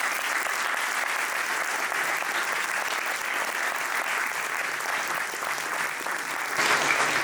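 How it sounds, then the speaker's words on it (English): An audience at a geopolitics symposium applauds the panelists, a full, sustained wave of many hands clapping at an even level, swelling slightly louder near the end, with faint crowd murmur mixed in. "let's have a big round of applause for the panelists"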